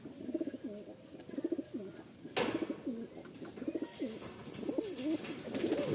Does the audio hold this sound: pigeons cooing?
yes